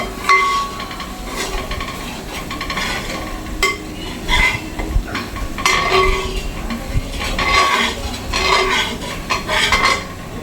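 A spoon stirring chili powder into kovakka (ivy gourd) pickle in a pan, with repeated metallic scrapes and clinks against the pan over a soft frying sizzle, close and steady with no talking.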